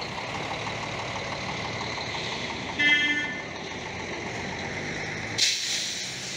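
Vehicles pulling out along a road, including a new-body 2021 Fiat Egea (Tipo) police-package car, engines running in a steady broadband hum with a brief honk-like tone near the middle and another short burst at the end; no one speaks.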